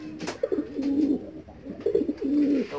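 Pigeon cooing close by in two low, throaty bursts separated by a short pause, with faint rustling and no talk over it.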